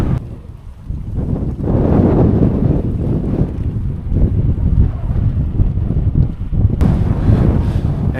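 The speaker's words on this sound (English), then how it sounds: "In case you don't believe me with the wind, here you go." Strong headwind on the Karakoram Highway, a high mountain road crossed by bicycle, roars loud and steady, buffeting the microphone in continuous gusts with no talking.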